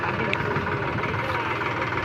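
A tractor engine idles steadily close by on a Khandesh farm, a continuous low rumble with voices talking faintly over it.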